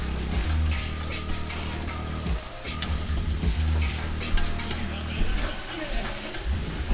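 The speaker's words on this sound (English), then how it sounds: "Let that simmer for a few minutes just to get them start to soften up the carrots and the onions" Carrots and onions simmer and sizzle in a pot while a utensil stirs and scrapes, producing bursts of clattering and crackle over a constant low rumble, close by.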